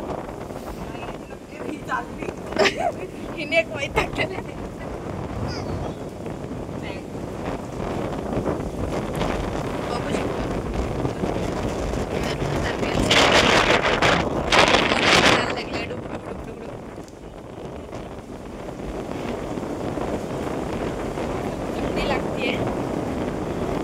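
Wind gusts across Alibag beach in the rain, a constant rushing roar that swells louder midway, with surf beneath and people talking over it throughout.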